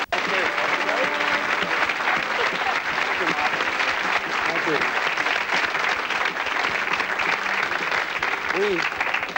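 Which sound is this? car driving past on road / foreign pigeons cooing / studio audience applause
studio audience applause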